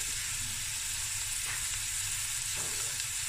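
Allspice, crushed chili, a cinnamon stick and a halved jalapeno frying in a pot for a Cape Malay tomato stew: a steady, loud hiss of hot oil sizzling throughout, with faint stirring and no voices.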